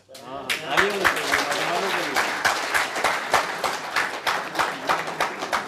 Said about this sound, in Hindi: इस बात से खुश हो के हर उम्र के लोगों ने तालियां बजाई